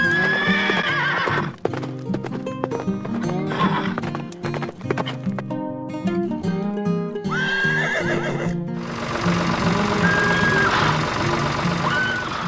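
Two brown horses on a farm neigh and whinny loudly and close by, with the clip-clop of hooves mixed in, several calls in succession and no talking.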